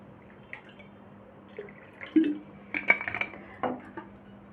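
Chilled water poured into glasses for a raw mango drink, with soft clinks of glass and a few drips and splashes spread over a few seconds, fairly quiet and without talk.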